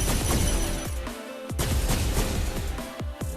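Loud, close gunshots ring out repeatedly, with sharp cracks and booming tails, from weapons fired at a shooting range in the VR game Gun Raiders.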